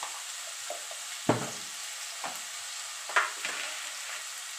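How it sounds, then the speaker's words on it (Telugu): Onions fry in a pan with a steady background sizzle and a few soft stirring scrapes, close by and without speech. "ఆనియన్స్ వేసి కొంచెం బాగా ఫ్రై చేసి"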